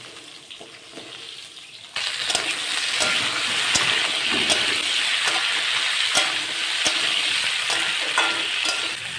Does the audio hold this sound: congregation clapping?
no